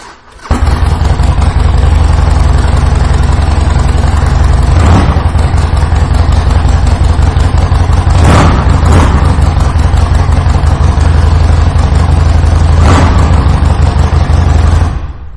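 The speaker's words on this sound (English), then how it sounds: "I am going to take the opportunity to fire this bike up so you can hear what it's going to sound like" A loud 2010 Harley-Davidson 48 bobber engine with aggressive pipes fires up and idles with a deep, throbbing rumble, punctuated by a few sharp revs and pops, continuous throughout.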